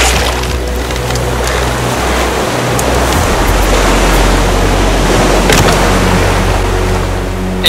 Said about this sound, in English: Over the sound of the ocean.